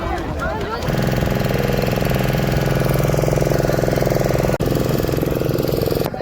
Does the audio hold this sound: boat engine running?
yes